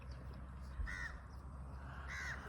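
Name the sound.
crows cawing near street dogs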